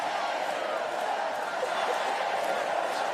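Stadium crowd at an England v France women's rugby international roars in a sustained wash of cheering and noise, with a commentator's voice faintly mixed in.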